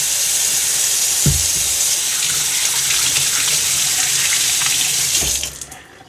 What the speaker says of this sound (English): I'm going to actually wash the apples real quick.